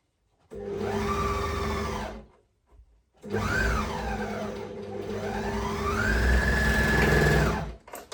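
An overlocker serging bikini fabric whirs loud and close in two sustained runs, a short burst and then a longer stretch with speed swells, separated by a brief pause and no talk.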